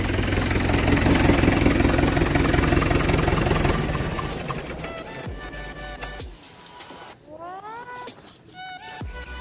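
A loud, steady tractor engine idles close by after vineyard spraying, then winds down and cuts out, leaving quieter mechanical whirs and squeaky tonal sweeps.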